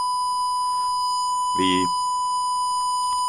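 The low-voltage buzzer on a DumboRC brushed micro ESC for RC cars and planes sounds one continuous high electronic tone throughout, while a voice briefly speaks over it.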